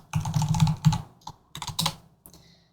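Code is typed in Godot on a computer keyboard, close-up: bursts of quick keystrokes with short pauses between them, then a few scattered taps fading out.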